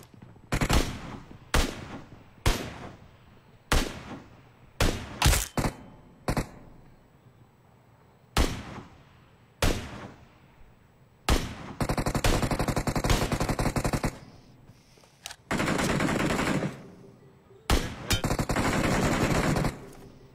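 Video game gunfire rattles out, first as a rapid string of single sharp shots and then as longer sustained bursts of automatic fire, loud and close, with no talking.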